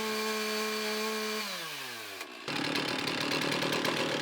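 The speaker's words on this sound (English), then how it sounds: "Candidate 2 starts chainsaw and ensures proper working order," A chainsaw engine idles with a steady harmonic drone, its pitch sliding down as it winds off, then a loud, rough, rattling roar of the saw running close by during a firefighter vertical ventilation exercise.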